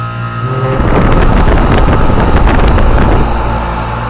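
A York commercial rooftop central air conditioner unit kicks back on in below-freezing weather, building from a low rumble into a loud, steady broadband whoosh of fan and airflow that holds for several seconds, then eases slightly, with no talk.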